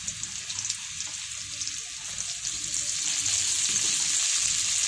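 Carrots fry in hot oil in a wok, giving a steady, close, hissing sizzle that grows slightly louder, with faint clinks underneath.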